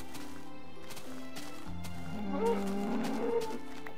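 A cow in the video game Minecraft gives a low, drawn-out moo over game background sounds, moderately loud.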